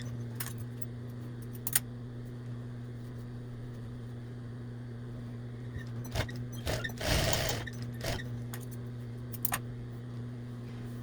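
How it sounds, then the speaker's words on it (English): A sewing machine stitches a half-inch seam on a kid's apron, back-stitching at the ends: a constant low motor hum with a few short rattling bursts and a longer run of stitching near the end. "we're going to stitch about a 1/2 inch seam allowance back stitch at each end."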